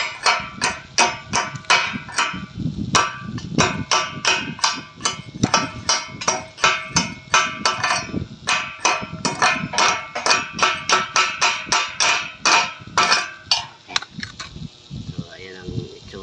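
A hammer chips slag off a fresh vertical weld made with flux-coated rod, striking in a long, rapid series of sharp metallic taps, close and loud, with occasional pauses before the clatter stops near the end.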